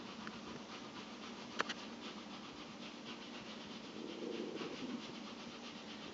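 Colored pencil shades back and forth on paper in soft, steady rubbing strokes, close and quiet, with a faint tap partway through.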